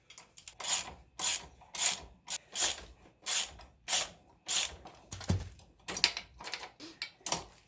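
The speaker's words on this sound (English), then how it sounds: "I'm going to go ahead and take off the right-hand foot peg using these two bolts. This is also a 14mm bolt" A ratchet wrench working the 14mm bolts off the right-hand foot peg of a Honda XR100, close rapid clicking bursts in an uneven rhythm with short pauses between strokes.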